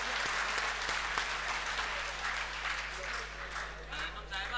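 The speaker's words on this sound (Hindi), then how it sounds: "तालियां बजा दीजिए" Audience at an Urdu mushaira in Qatar breaks into steady, full applause that carries on throughout, with faint voices mixed in beneath the clapping.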